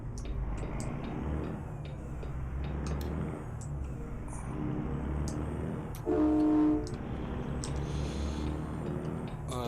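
A deep, loud truck air horn tuned like a train horn in the American Truck Simulator game, one sustained blast sounding over steady engine drone and rumbling road noise.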